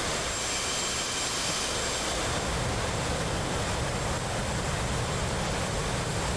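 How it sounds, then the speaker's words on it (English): An F-18 jet landing in the flight simulator DCS World, a loud, constant broadband engine roar and rushing wind that holds steady throughout with no speech. "Now you better watch my terrible landing in an F-18."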